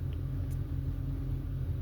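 A parked car's engine idles steadily, a low, even rumble close by with no revving and no voices.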